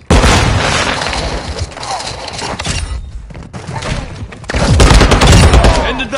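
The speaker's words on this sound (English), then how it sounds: "Grenade!" Grenade blast and rapid gunfire in Call of Duty, loud bursts and thuds crowding the clip with a brief lull before another heavy volley.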